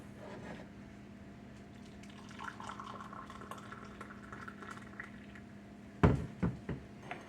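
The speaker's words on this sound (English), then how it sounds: "Let me get my coffee poured." Freshly percolated coffee is poured from the pot into a cup with a soft, steady liquid rush, then a few louder clinks and splashes near the end. No one speaks.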